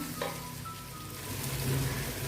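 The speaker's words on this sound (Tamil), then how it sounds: "இப்போ தக்காளியும் நல்லா வதங்கட்டும்." Tomatoes sautéing in a pan for chicken biryani with curd and onion give a low, steady sizzle with faint stirring scrapes, close and moderately quiet, with no voices.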